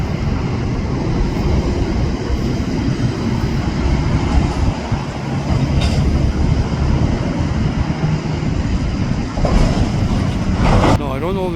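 Freight train rail cars rolling past outdoors, a loud continuous rumble with rhythmic clatter from the cars, steady for the whole stretch.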